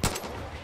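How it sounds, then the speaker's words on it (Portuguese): Gunfire in the video game Far Cry 5: a single sharp shot at the start, followed by a short, dense burst of noisy crackle that fades at moderate volume. "Errei o tiro, velho."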